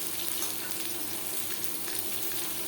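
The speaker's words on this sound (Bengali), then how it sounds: "লঙ্কার সাথে 5 ফোড়ন তেজপাতা ভেজে নেওয়ার পর দিয়ে দেবো পেঁয়াজ কুচি" Sliced onions frying in hot oil with chili, five-spice and bay leaf, giving a steady, bright sizzle that runs continuously at moderate loudness with no voices.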